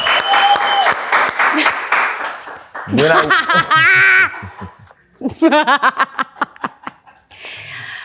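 Studio audience applause at a talk show, bursts of clapping and cheering that swell and fade in several waves, with a voice talking between them.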